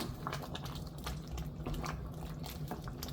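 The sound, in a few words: stirring oha soup in a pot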